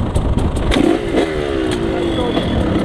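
A motorcycle engine revs up and drops back on the throttle at close range on open wasteground, with an unsteady, rising and falling drone and voices talking over it.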